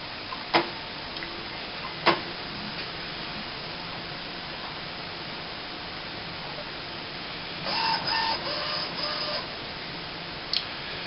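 An Epson S20 printer with no ink cartridges fitted runs its startup routine: sparse sharp mechanical clicks, then a short cluster of whirring and ticking from the carriage motor, all close and moderately quiet over a steady room hiss.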